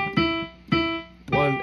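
A clarinet plays a dotted quarter note followed by an eighth note, three clear sustained tones with rich harmonics, close and alone, repeating the long-short pattern.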